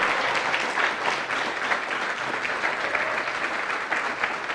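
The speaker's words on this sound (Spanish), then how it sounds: "Denle un aplauso al Señor y a su palabra" Church congregation applauding together, a steady dense wash of clapping from a large crowd, moderately quiet and uninterrupted.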